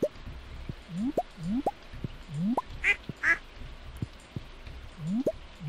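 Ducks quack in Stardew Valley, a video game, in a repeated series of short nasal calls at an uneven pace, with soft plopping drips and two brighter chimes mixed in. No one talks.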